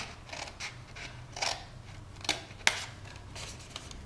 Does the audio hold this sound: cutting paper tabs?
yes